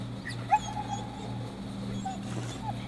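A dog in the Grim Tales video game gives a short, sharp whimper, followed by faint, higher whines over a steady low hum of background music.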